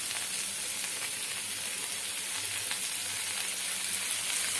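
Tomato and chili sauce hits a hot frying pan over a medium flame, giving a steady, close sizzle with soft hissing throughout and no talking.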